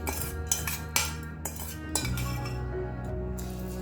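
A spoon stirs sambar rice in a pot, with a few sharp metallic clinks against the rim early on and then a quieter, softer mixing sound, close by and without talk.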